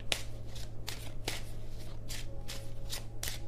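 Tarot cards being shuffled by hand, a series of crisp riffling bursts repeating every half second or so, close up over a steady low background hum, with no speech.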